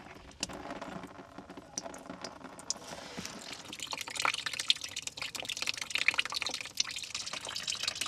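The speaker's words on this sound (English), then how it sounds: "We're going to actually loosen this little drain plug and let that drain into a little bucket." Coolant drains from the radiator drain plug of a Subaru Outback 3.6 into a bucket, a faint, steady trickle and splash with scattered drips that grows slightly louder as it flows.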